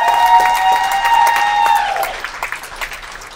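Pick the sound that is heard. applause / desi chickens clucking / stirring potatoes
applause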